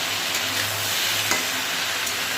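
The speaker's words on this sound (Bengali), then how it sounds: "আর এদিকে ঢেঁড়স হলো ভাজা হচ্ছে" Okra (bhindi) sizzles steadily as it fries in a pan in a home kitchen, with a continuous close crackle and occasional stirring scrapes and no talk.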